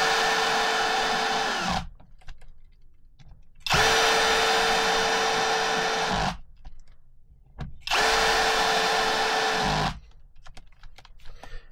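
A power tool drives screws back into an Arrma Outcast RC car in three loud bursts of about two seconds each, a high whirring whine that drops in pitch at the end of each run, with quiet gaps and small clicks between bursts.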